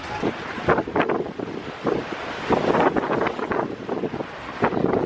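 Gusty wind buffets the microphone while waves rush and slosh past a sailboat making about 8.5 knots with following winds and seas on passage to Bonaire, a loud, continuous roar throughout with no talking.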